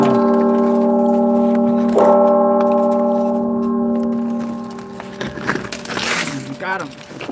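Church bell tower ringing outdoors during a sandstone demolition job, a sustained, fairly loud tonal peal with long overlapping hum that fades after a few seconds, followed by scattered knocks and rustling handling noise.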